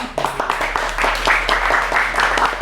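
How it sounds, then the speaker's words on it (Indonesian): A crowd at a Ramadan stage event breaks into brief applause, a dense patter of many hands clapping nearby, fairly loud and steady, with no talk over it. "Beri aplaus yang meriah teman-teman"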